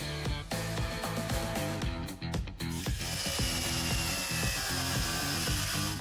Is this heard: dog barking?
no